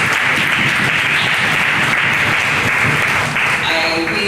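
A symposium audience gives a sustained round of applause for the panelists, steady dense clapping throughout with no pauses.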